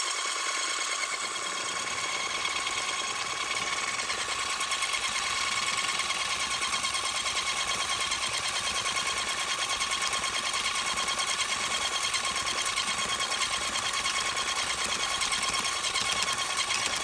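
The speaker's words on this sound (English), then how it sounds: "I'm going to use this nice handheld blender where I purchased from Amazon." A handheld electric blender whirs continuously while mixing moisturizing lip gloss base, a steady high-pitched motor drone that stays close and constant throughout, with no speech.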